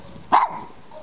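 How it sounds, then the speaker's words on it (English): A single sharp bark from a dog, close by, followed by quiet. "Layla, quit barking."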